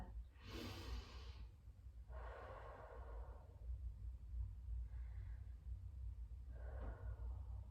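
Slow, deep yoga breathing held in a flat back extension. Four soft, airy breaths are heard close up over a low hum, with no talking.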